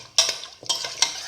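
A spoon stirs a thick cottage cheese, potato and chickpea mixture with water, giving three quick scraping, squelching strokes close up.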